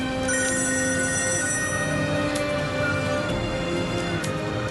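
A mobile phone rings with a continuous electronic ringtone, held steady and fairly quiet throughout with faint chiming accents and no talk over it.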